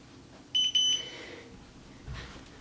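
A workout interval timer gives two short, bright electronic beeps in quick succession, clear and fairly loud, followed by quieter room sound and faint movement.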